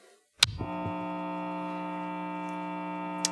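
A click as a guitar amplifier switches on is followed by a steady electrical hum that holds on at a low, even level, with a faint tick near the end.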